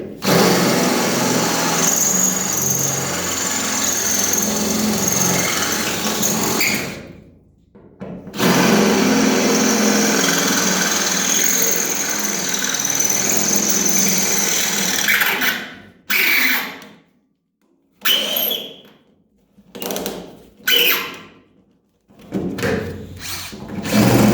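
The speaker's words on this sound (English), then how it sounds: "I'm going to go ahead now and drill them out" A power drill drilling out spot welds whines loudly in long continuous runs, then in shorter bursts separated by pauses, close up and alone.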